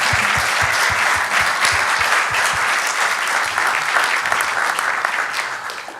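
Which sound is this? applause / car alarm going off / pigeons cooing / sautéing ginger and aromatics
applause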